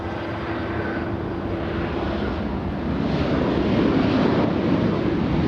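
A jet airliner takes off at LAX airport with a steady, broad engine roar that swells louder midway, with wind buffeting the microphone and no talking.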